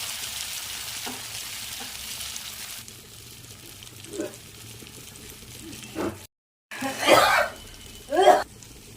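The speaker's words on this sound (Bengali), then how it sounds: "মশলা একটু নাড়াচাড়া করে সয়াবিনটাও দিয়ে দেবো এর মধ্যে।" Spices being stirred and fried in a pan before soybean chunks go in, a steady low sizzle with occasional scraping strokes, broken by a brief dropout and a few louder stirring bursts near the end.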